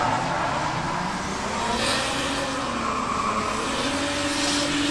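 A turbocharged Toyota Supra 1JZ drift car roars steadily at a drift championship, its dense engine and tyre noise filling the air loudly and continuously with no voices.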